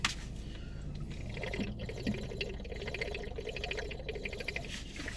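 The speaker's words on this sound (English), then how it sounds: "So let me have a sip of water here." Lemon water poured and sipped in the morning at home, a soft continuous liquid trickle with faint gurgling and small clinks, close and fairly quiet with no talk.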